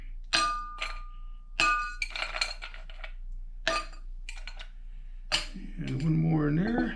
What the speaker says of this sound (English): Let's get a couple of ice cubes in the glass.